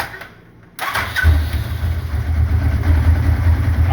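A 2013 Polaris RZR XP 900 engine with a shop-rebuilt motor that runs rough, starting after a short quiet gap and then idling loud and close with an uneven, pulsing low rumble.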